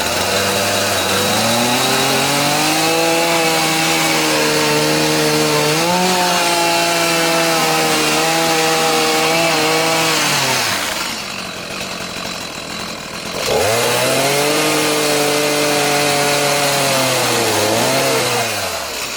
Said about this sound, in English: the only way I can trim this is with the chainsaw